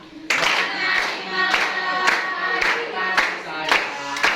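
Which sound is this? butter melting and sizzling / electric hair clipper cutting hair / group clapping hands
group clapping hands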